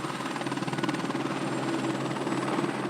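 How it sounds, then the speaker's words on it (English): A helicopter flies a U.S. Geological Survey mapping flight over the Wet Mountains west of Pueblo, Colorado, carrying instruments that measure magnetic fields and radioactivity. Its rotor gives a steady, even drone, moderately distant, with no voices. "The helicopter has instruments that measure things like the Earth's magnetic fields and radioactivity levels."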